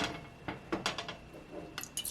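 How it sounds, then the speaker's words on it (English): CLR calcium lime rust remover is poured in small amounts into a metal can, giving faint liquid splashes and light metallic taps that come in short, irregular bursts at a quiet level. "pour a little bit into that can right there"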